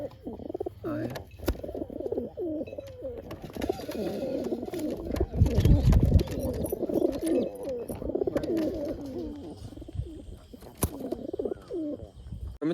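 Pigeons coo repeatedly in soft, rolling phrases at a pigeon market, several birds overlapping close by, with scattered chirps and a low thump of handling noise in the middle.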